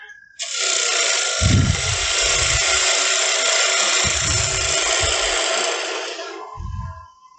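A gouge cuts wood on a wood lathe, giving a loud, sustained hissing scrape with low thumps from the spinning workpiece rising and falling beneath it, lasting about six seconds before fading.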